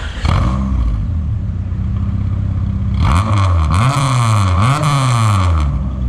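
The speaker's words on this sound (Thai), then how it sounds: "อยากฟังเสียงท่อไปสตาร์ทให้ฟังหน่อยดิ" A Honda DC2 Integra fitted with a JS Racing exhaust starts up loudly and idles, then is blipped through several rising and falling revs, close and raw with a raspy exhaust note.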